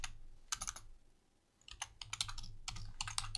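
Quick bursts of keystrokes on a computer keyboard, with a short pause before the typing resumes in steady, close clusters and no talking.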